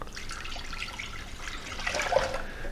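Water pours into a pot as it is measured for cooking rice, a close, steady trickling splash that swells slightly near the end, no voices.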